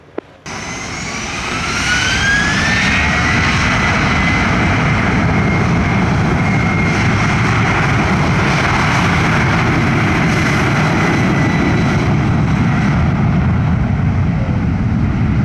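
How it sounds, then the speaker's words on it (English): A WestJet airliner taking off from runway 25 at Montego Bay, a loud sustained jet roar building quickly and holding close and powerful throughout, with a rising whine over the rumble and no voices. "Jet 2673 when in position, cleared for takeoff runway 25, wind 330 degrees, 11 knots."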